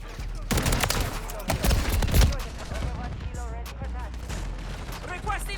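Shotgun fire from the Riveter in Call of Duty: Modern Warfare III, a burst of loud close blasts with booming low end, then scattered lighter game sounds trailing off.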